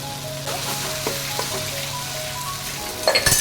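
Crushed chili, ginger and garlic hit hot oil in a pan, a steady loud sizzle with light stirring scrapes and a few metallic clinks near the end.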